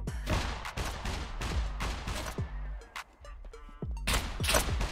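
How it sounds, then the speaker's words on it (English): Sharp gunshots in the survival game SCUM ring out in irregular bursts, some single cracks and some quick clusters, loud and close with a short quieter gap midway. "Is he shooting at me?"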